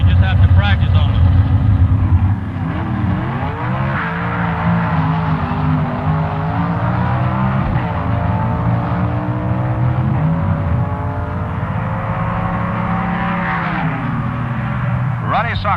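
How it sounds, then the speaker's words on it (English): Two Plymouth Super Stock drag cars idling and rolling toward the starting line at the 1969 NHRA Winternationals, a steady rumbling engine drone with slight pitch swells, heard under a continuous announcer's voice. "right now we have two Plymouths rolling to the starting line in the Super Stock semifinals"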